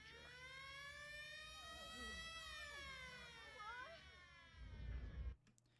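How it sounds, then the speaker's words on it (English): A wailing siren from The Iron Giant's missile scene rises and falls with strong harmonics, loud and steady, with a low rumble swelling near the end before it cuts off. "so the siren sound went off"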